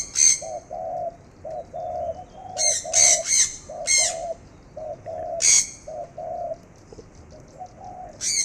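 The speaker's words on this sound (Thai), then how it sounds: "เสียงนกแก้วนะครับ" Repeated low hooting calls from a bird in an even rhythm, interrupted by several loud, harsh screeching squawks from a nearby parrot.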